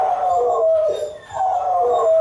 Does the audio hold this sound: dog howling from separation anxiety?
yes